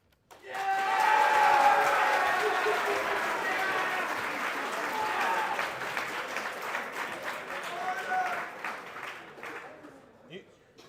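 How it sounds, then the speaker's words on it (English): An audience at an evening assembly bursts into applause after a Supreme Court candidate's campaign speech; a dense wash of clapping, punctuated by a few whoops and cheers, swells near and loud, then slowly tapers off over about ten seconds. "You can hold your applause till it's all over."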